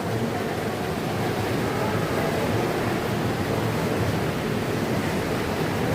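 Thermal-water jacuzzi at the Berehove hot springs, bubbling in a steady, dense, close-up rush with no pauses and no talk over it.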